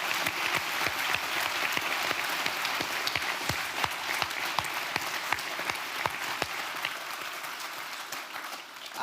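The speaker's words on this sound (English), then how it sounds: "Please give them a big applause for Renate Lol and Heino Valken." An audience at a university forum event in Eindhoven applauds two speakers with dense, even clapping that holds steady for about nine seconds and tails off slightly at the end.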